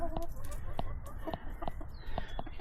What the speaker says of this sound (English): 4 roosters and 4 hens.